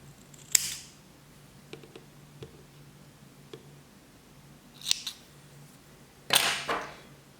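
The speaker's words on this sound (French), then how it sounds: "On va couper l'excédent." Scissors trimming excess cotton wick on a Hypersonic RDTA vape atomizer, heard as a few close, crisp snips with faint clicks between them in a quiet room.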